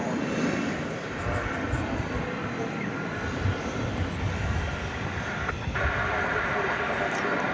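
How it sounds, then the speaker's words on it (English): An Airbus A321 airliner on the runway at Dallas Fort Worth airport produces a continuous broad jet engine roar that holds steady throughout, heard at a distance at night. "That was flight 2747 coming in from San Diego, California, an Airbus A321 on runway DFW."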